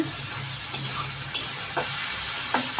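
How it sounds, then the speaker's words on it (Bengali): Masala frying in oil for a singhi fish curry, a steady close sizzle with occasional spoon scrapes and stirs, continuous and unaccompanied by voices. "মশলাটা কষানো হয়ে গেছে তেল ছেড়ে দিচ্ছে"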